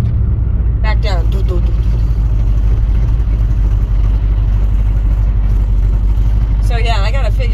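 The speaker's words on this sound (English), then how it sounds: "And I'm in neutral right now. But do you hear how high the idle is?" A 1971 Chevrolet El Camino's engine idles high in neutral at a stop sign, a steady loud low rumble running throughout, with someone talking over it.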